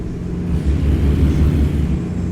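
Kenworth W900 truck engine in American Truck Simulator drones with a steady low idling rumble, even and continuous with no talk over it.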